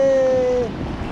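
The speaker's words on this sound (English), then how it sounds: "There's waves coming" Ocean surf at a beach in Bauang, La Union, washes in as a steady rush of broadband noise, with a brief thin whistle-like tone at the start before the water takes over.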